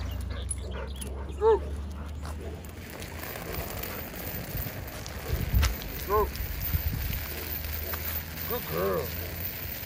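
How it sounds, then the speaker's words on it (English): Kennel dogs strain against a chain, whimpering and giving short yelps and barks at intervals, with chain clinks and scuffling. People talk in the background and rain patters steadily throughout. "See how these dogs struggling with just a chain?"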